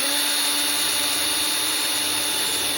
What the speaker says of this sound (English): So I'll drill and attach the front of the slides.